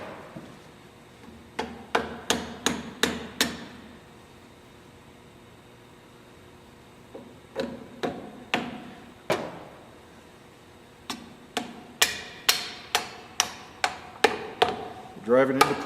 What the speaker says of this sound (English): And then use a plastic hammer